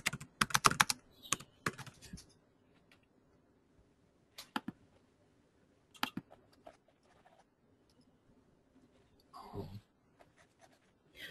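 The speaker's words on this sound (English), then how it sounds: "I've been typing answers to questions here." Typing on a computer keyboard during a live painting session, with bursts of quick, close key clicks separated by quiet pauses and a short scraping rustle near the end.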